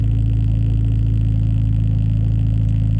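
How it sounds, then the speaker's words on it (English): Loud, steady engine drone from a 2006–2011 Honda Civic Si with a deep low rumble and constant harmonics throughout, close up, with no talking over it. "car is super loud for no reason"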